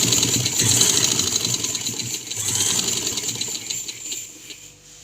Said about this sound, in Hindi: अब यहाँ पर मैं सिलाई लगाऊंगी सीधी।